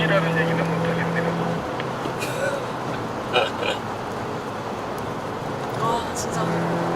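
A Volkswagen Arteon 2.0 TDI 4Motion diesel pulls up to highway speed, a steady broadband drone of engine, road and wind noise inside the cabin, with people talking over it.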